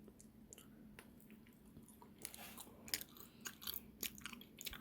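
Someone chews a jelly candy close to the mic, soft wet squishes and sticky bites with small crunchy clicks in an irregular rhythm, quiet and without speech.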